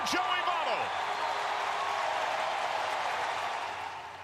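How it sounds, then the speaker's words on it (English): A large baseball stadium crowd roars and cheers for Joey Votto's 2,000th career hit, a loud, sustained wash of noise that fades slightly toward the end. "The crowd went wild"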